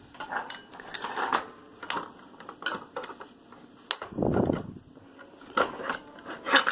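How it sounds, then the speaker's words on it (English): A series of sharp wooden knocks and clacks as the back cloth beam is lifted off a warped wooden Newcomb loom, with one longer dull rubbing thump midway; close and irregular. "now we're going to lift off the back cloth beam"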